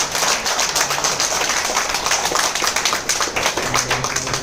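An audience at a training event for Sagar Joshi in Mumbai claps loudly, a dense continuous patter of many hands that carries steadily throughout at close range.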